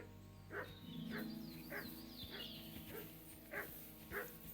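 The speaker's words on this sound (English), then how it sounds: "Good dog, Mud" Dog barking in Kingdom Come Deliverance 2, a handful of sharp barks spaced roughly evenly over a steady low in-game ambient hum, moderately close.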